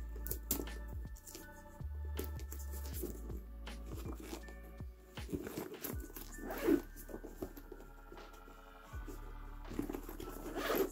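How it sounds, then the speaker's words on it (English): A Coach Rowan satchel handbag's inside zipper slides open in several short scratchy pulls, close by, with soft rustling and handling noises between strokes. "it also has an inside zipper on the inside"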